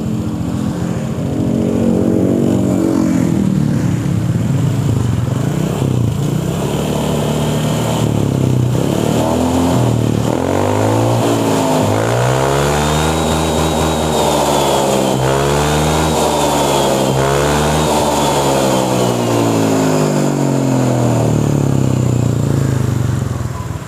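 Honda Vario automatic scooter with its standard muffler revs repeatedly, the exhaust climbing and dropping in pitch in several close, loud bursts over a steady idle rumble.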